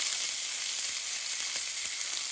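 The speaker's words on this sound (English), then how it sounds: "They're all getting nice and brown on all 4 sides." Pieces of pork browning in hot lard in a pan give a steady, close, even sizzle and crackle that runs without a break.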